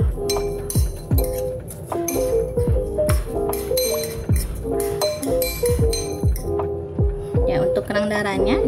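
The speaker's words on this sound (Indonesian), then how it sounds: "Kita aduk ratakan kembali." A spoon stirs sambal with lime juice in a bowl, knocking out a busy run of close, ringing clinks and pings, with a voice speaking over it.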